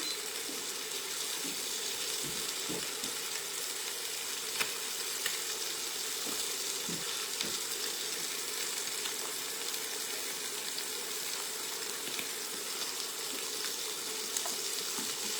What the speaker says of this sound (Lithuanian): Taip, kepam antrą partiją.